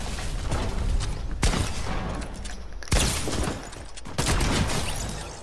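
Repeated gunfire bursts from a Fortnite Battle Royale match, several loud volleys and sharp cracks spaced irregularly across the stretch, dense and close with no voices.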